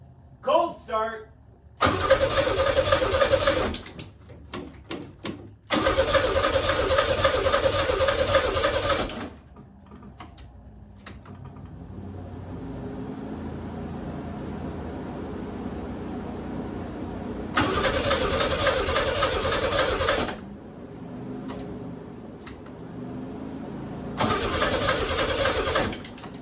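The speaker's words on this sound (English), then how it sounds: "Cold start." Cold start of a Pontiac Fiero engine after a battery hookup, with repeated loud starter cranking bursts, separated by quieter running or idling stretches, the cranking returning several times.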